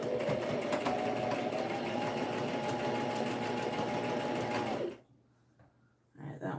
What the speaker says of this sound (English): We're going to sew this one in and then work on the other one.